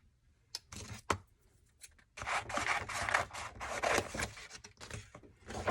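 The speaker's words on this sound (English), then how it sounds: "I'm going to cut a piece so you can see how I did it" Scissors cut through a piece of paper up close, first in a few separate snips and then in a longer run of dense crisp slicing and rustling, alone with no talk.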